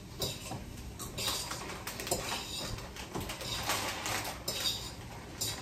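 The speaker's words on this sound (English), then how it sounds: "I'm stir frying. My brocks." Broccoli stir-frying in a pan, with quick clattering and scraping of a utensil over a sizzling background, fairly close.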